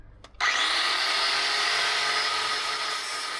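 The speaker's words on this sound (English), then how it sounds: "We found some 16mm plate that we're going to use." A 9-inch angle grinder spins up and grinds 16mm steel plate inside a welding-blanket enclosure, a sudden loud, harsh, steady screech that holds without pause to the end.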